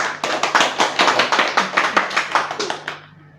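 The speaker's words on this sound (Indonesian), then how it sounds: "Boleh tepuk tangan." A small group claps close by in a casual gathering, loud and rhythmic with distinct individual claps, lasting nearly three seconds before stopping abruptly.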